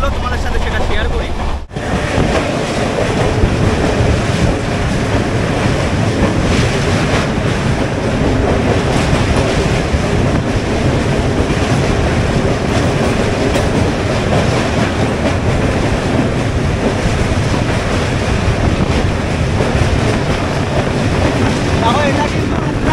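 Aboard the 12821 Dhauli Express from Kolkata to Puri, the train runs at speed near the Kolaghat bridge. A loud, constant roar and rattle with rhythmic wheel clacks and buffeting wind noise fills the whole stretch.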